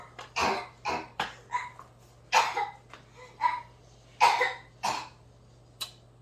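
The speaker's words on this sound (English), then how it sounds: "My son's very dramatic coughing" A child coughs over and over in a dramatic, hacking series of about a dozen sharp bursts, close by with short gaps between them.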